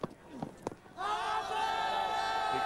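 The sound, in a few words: cricket crowd cheering after a wicket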